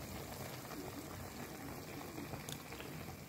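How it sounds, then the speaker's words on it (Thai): A pot of food with tendon and a dash of fish sauce boils steadily, giving a continuous soft bubbling and gurgling close by, fairly quiet and with no one speaking. "ดูแล้วยังไม่เปื่อยเดี๋ยวต้มอีกสักหน่อย"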